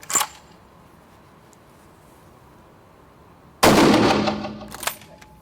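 A single loud rifle shot cracks inside an indoor shooting range, a sharp broadband blast that rings off the walls and fades over about a second, with a fainter click before it and a brief metallic knock after.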